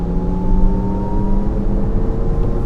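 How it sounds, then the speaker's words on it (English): A Lexus RZ 450e electric car accelerates hard in sport mode at about 50 mph, a steady whine with tonal motor hum over road and wind roar, heard from inside the cabin with no talking. "So we're still in sport mode. I'm going about 50 mile an hour, pedal down."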